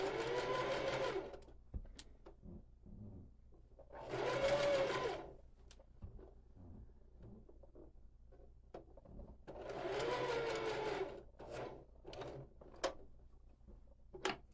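A sewing machine stitching a water bottle holder whirs in three separate runs of a second or two each, fairly close, with quiet handling noises in the pauses between.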